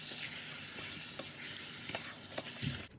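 Yogurt is stirred into mutton biryani masala in a pot, giving a quiet, steady sizzle with several soft scraping strokes of the spoon before a sudden clunk ends it.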